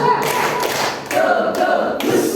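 An audience at a parenting seminar claps a call-and-response rhythm pattern in short, sharp bursts spaced across a couple of seconds, loud and close over a roomy hall tone.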